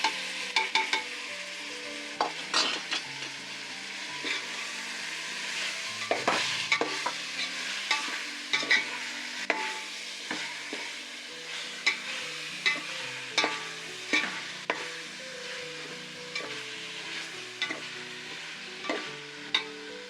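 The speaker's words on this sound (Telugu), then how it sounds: "అరగంట నానబెట్టుకున్న మాంసాన్ని ఇందులో వేయాలి" Marinated chicken, soaked in garam masala, ginger-garlic paste, yogurt and lemon juice, sizzles in a pot for hotel-style biryani while a spoon scrapes and stirs it in steady, repeated strokes, close and alone with no talking.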